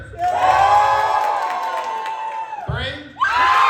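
A live crowd at a Christmas show cheers and whoops loudly in a sustained burst, drops briefly, then surges again with shouting voices mixed in.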